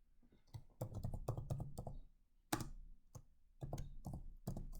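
Fast bursts of keystrokes on a computer keyboard as personal tax details are entered, loud and close, with short pauses between runs of clicks and no talking.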